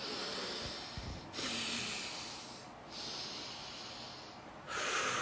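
Three long, slow breaths are drawn in through the nose during a headache-relief stretch, each a soft airy hiss separated by brief pauses, close and quiet with no talking.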